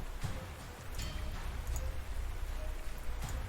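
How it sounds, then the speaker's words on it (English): Steady rainfall in the Panzer Corps video game, a soft continuous hiss of drops with faint ticks on surfaces, quiet and unbroken throughout. "Can't bloody see for toffee thanks to this rain"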